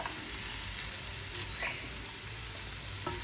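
Butter sizzles in a hot pan, a steady close crackling hiss with a few faint clicks and scrapes, and no voices.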